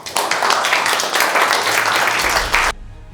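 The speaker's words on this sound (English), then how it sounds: "A round of applause." An audience applauds after a business talk, a dense burst of clapping that fills most of the moment before cutting off abruptly near the end.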